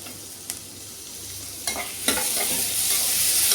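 Onions sautéing in a hot pan, a steady close sizzle with a few sharp scraping stirs that grows louder and brighter toward the end, no voices.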